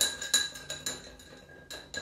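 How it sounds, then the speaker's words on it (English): Ice clinking against a wide-mouthed glass as an Old Fashioned cocktail is stirred, a run of sharp, close, irregular chinks and taps. "And then you're gonna give it a stir"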